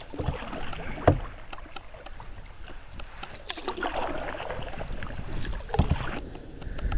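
Canoe paddled across a coastal inlet, paddle strokes splashing and dripping against the water at irregular intervals amid wind noise, with a couple of sharper knocks against the hull.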